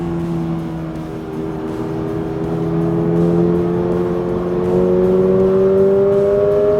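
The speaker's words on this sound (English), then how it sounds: "Listen to that boxer engine." A Toyota GR86's boxer engine revs on a race track, a steady loud drone whose pitch climbs gradually as the car accelerates, heard alone without talk.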